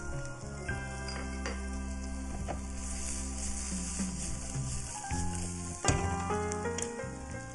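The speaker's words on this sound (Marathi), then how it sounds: "चांगलं परतून घेऊया।" Halved ivy gourds sauté in a pan, giving a steady, close sizzle with stirring clinks and scrapes; the sizzle jumps briefly louder near the end.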